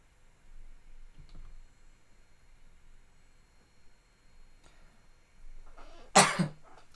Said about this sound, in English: didn't mean to cough in the mic